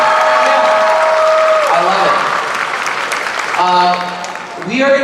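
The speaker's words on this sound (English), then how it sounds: "Give yourself a round of applause for being here." Audience applause fills a high school drumline sendoff show, steady and loud clapping with cheering, while an amplified voice talks over it near the start and again toward the end.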